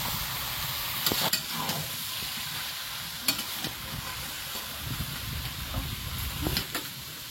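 Meat being browned in a covered pot with potatoes, a steady low sizzle and hiss with occasional clinks and scrapes, close by and moderately loud, no speech.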